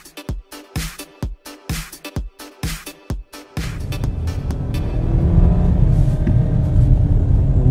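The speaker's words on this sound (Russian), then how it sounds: "Вот он взрыкивает, что-то пытается изобразить там под капотом" A 2016 Kia Optima engine revs in short repeated blips, several sharp bursts with gaps between them, then settles into a continuous building roar heard from inside the car.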